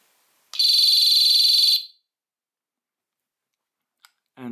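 Tone 2 of a FOX 40 electronic whistle sounds as one loud, sustained, shrill electronic blast of just over a second, then silence broken by a tiny click and a faint rustle at the end.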